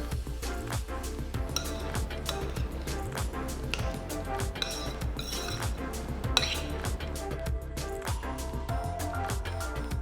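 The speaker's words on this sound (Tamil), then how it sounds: "1 டேபிள் ஸ்பூன் தேன் சேர்த்து நல்லா மிக்ஸ் பண்ணுங்க" A spoon clinks against a bowl while mixing fruit with honey for a custard dessert, with steady repeated chinks and scrapes throughout, close and clear.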